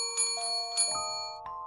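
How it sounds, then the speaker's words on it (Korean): A bell rings from a restaurant kitchen with bright, sustained metallic tones struck several times in quick succession, its ringing lingering clearly and fairly loud with no voices over it. "주방 쪽에서 종소리가 들렸다."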